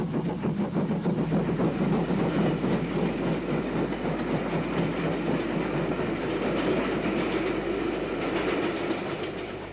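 A narrow-gauge train rolls along the rails near Welshpool, Wales, in 1962, with a continuous rumble and rhythmic clatter, steady and fairly close, no talking.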